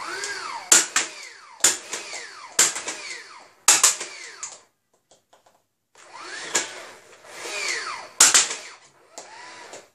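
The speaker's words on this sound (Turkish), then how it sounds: "Panoya doğru fırlatıyorum tekli atış ve taramalı atış olacak." A Nerf Swarmfire dart blaster running on weak batteries fires at a board, first single shots, then a bursts of automatic fire, each shot a sharp motor whir and pop, close and loud, with a brief pause in the middle.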